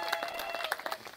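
Brief applause from a church congregation after a prayer, a soft patter of overlapping claps at a moderate distance, fairly quiet and continuous for about a second with no voices.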